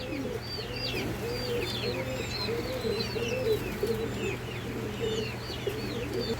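Racer pigeons at a pigeon farm, many birds cooing in overlapping rhythmic bursts with scattered higher chirps, close and continuous over a steady low hum, no talking.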